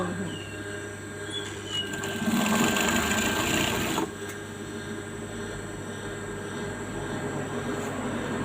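A sewing machine hums steadily as it stitches along the edge of a shirt, running continuously at an even pace with a slightly louder, faster stretch partway through, and no voices heard.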